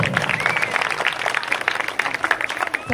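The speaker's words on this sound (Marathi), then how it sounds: "जरा जोरदार टाळ्या होऊन जाईल." An audience at a women's contest grand finale claps steadily in a dense, close patter, with a voice briefly audible over the applause.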